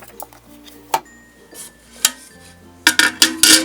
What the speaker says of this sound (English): You just make sure you remove the paddles.